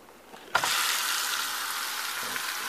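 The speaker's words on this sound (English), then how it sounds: "It's sizzling." Meatloaf dropped into a hot pan bursts into loud, steady sizzling that starts abruptly after a brief thud and continues unbroken, close up, with no talking.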